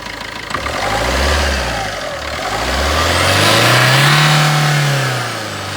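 A diesel car engine revs up loudly from idle, close by, in two or three long swelling pulls with a rough, throbbing tone that rises and falls, with no voices.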